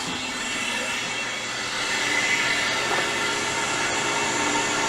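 A freeze dryer's drain valve is opened on a batch of milk, letting air rush in to release the vacuum: a steady, loud broadband hiss that holds for several seconds and swells slightly midway, with no voices.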